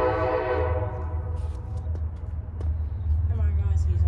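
A loaded Norfolk Southern 934 rail train behind a single locomotive running long hood forward rumbles past close by, its heavy low roar steady throughout, with a blaring K5LLA horn note fading at the start and faint voices beneath.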